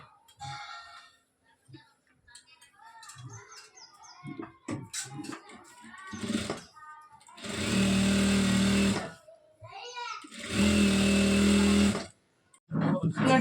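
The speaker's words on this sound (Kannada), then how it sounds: "ಇವಾಗ ಫುಲ್ ಎಲ್ಲ ಎಡ್ಜಿಗೆ, ಸೈಡು ಎಡ್ಜಿಗೆ ಎಲ್ಲ ಕಡೆನೂ ಇವಾಗ ಸ್ಟಿಚಿಂಗ್ ಮಾಡ್ಕೊಂಬರ್ಬೇಕು" A sewing machine stitches the edges of a churidar top in two sustained, whirring bursts of a few seconds each, with someone speaking between and before the runs.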